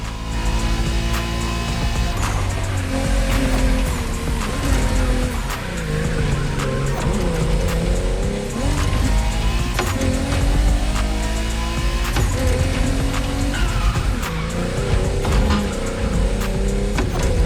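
Race cars in the video game The Crew, loud continuous engine roar with shifting revs and repeated tire squeals and skids throughout, no voices.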